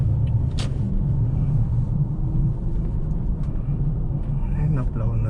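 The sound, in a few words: snow plow trucks rumbling past in a blizzard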